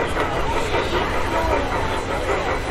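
A diesel train rolls past close by in the Washington, DC area, a continuous loud rumble and roar with a steady rush and no break.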